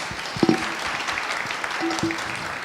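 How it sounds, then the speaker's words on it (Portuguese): Audience applause for panel speakers at a Portuguese-language talk on mobile games and retargeting, a steady patter of clapping through the whole stretch with a few louder claps near the start. "Palmas para eles."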